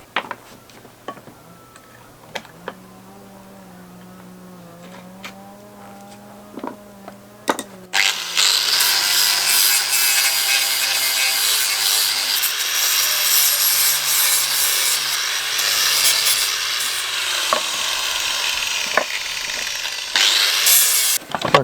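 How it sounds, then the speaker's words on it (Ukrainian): A motor whirs at a low hum with a few clicks, then a loud angle grinder bites into an old metal barrel with a harsh, sustained abrasive screech. "почистити їх болгаркою"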